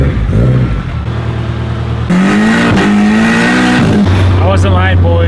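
A turbocharged Honda Civic Si (EM1) pulls hard under acceleration, its loud engine note climbing through the gears with sharp rises and shifts, while a person talks over the steady drone.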